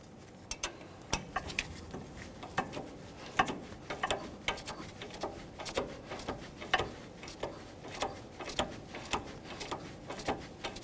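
A 15mm wrench tightens the lower ball joint nut on a 2003-2011 Mercury Grand Marquis while a 7mm holds the stud, giving a quiet series of sharp, closely spaced ratcheting clicks in an irregular rhythm.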